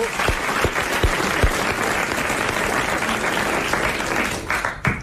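Studio audience on a French television show applauding a new couple, sustained loud clapping from a crowd, mostly alone with little talk.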